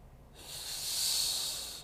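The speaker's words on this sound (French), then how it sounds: "il faut prendre une respiration abdominale" A deep abdominal breath drawn in before playing the horn, a single long airy hiss that swells and fades over about a second and a half, close and alone.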